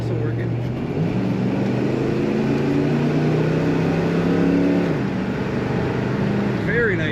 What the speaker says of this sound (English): Throaty exhaust note, and you can feel it pull.